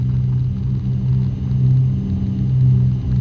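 Steady, loud drone of a twin-engine Cessna 310 in flight with propellers set to maximum on approach for landing, a dense low rumble that holds constant throughout with slight swells, no talk.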